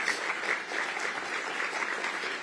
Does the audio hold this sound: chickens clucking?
no